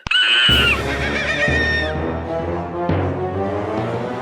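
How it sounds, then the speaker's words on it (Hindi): A horse whinnies loudly and close, a shrill neigh followed by snorting and lower harmonic calls from a stubborn horse kept at a home, with nothing else sounding alongside it. "आपके घर में एक अड़ियल घोड़ा है"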